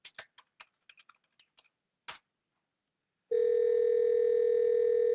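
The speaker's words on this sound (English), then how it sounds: "I'm going to make a test call here by entering the phone number in this field and pressing enter." Soft keyboard clicks tap out a number on a MaX UC Desktop softphone for Windows, then a loud, continuous electronic call tone starts and holds steadily to the end.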